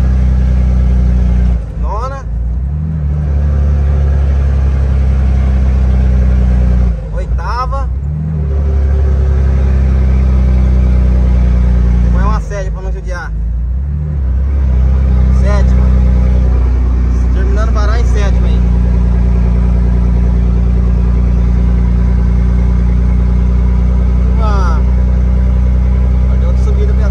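A loaded Scania 112 truck carrying 45 tonnes of corn on an LS trailer climbs a steep farm hill; a loud, steady low engine drone with brief dips at gear changes, with someone talking over it.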